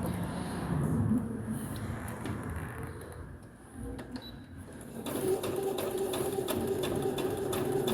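A Brother CS6000XL sewing machine stitches steadily, its whir and rapid needle clatter continuous through the clip and growing busier toward the end, with no voices.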